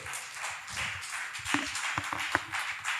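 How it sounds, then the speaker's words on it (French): Light applause from a small audience for two contestants at a Miss Universe DR Congo quiz event, scattered claps rising and falling with a few sharper, closer hand claps standing out. "Applaudissez pour nos 2 candidates."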